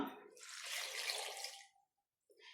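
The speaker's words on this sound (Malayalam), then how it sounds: "ഇനി ആവശ്യത്തിന് വെള്ളം" Water pours in a rushing stream into a pot for about a second and a half, then stops, followed by a faint splash.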